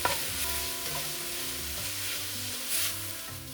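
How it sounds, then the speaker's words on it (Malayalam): Onions and curry leaves sauté with turmeric and salt in a pan, a steady close sizzle with stirring scrapes throughout, no voices. "1/4 ടീസ്പൂൺ മഞ്ഞൾപ്പൊടിയും കൂടി ചേർത്താണ് വഴറ്റിയെടുക്കുന്നത്"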